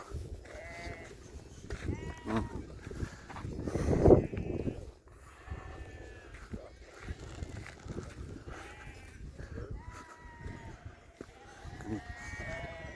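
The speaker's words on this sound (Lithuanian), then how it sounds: "Va čia tas avis gana." Sheep bleating while grazing in the Romanian mountains at about 2000 metres, several wavering bleats near and far over a quiet outdoor bed, with people talking now and then.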